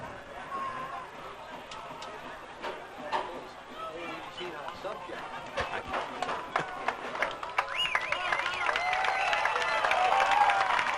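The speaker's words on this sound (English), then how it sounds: "Nice round of applause for Kyle Goodwin as he comes out." A crowd applauds at a high school football game, a scattered patter of clapping under an announcer's talk that grows denser and louder toward the end.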